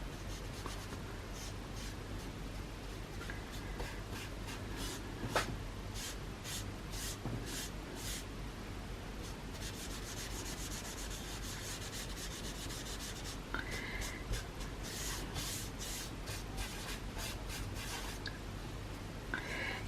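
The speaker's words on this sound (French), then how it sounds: "Et là on vient mélanger les pigments." Soft pastel pigments in brown and ochre are rubbed and blended on paper, giving a steady close scratchy scrubbing with short repeated strokes, quiet and alone.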